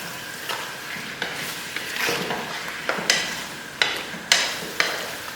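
Potatoes and spices are stirred and fried in a pan for aloo katlian, with a spoon scraping in repeated strokes over a steady low sizzle and sharp clicks against the pan.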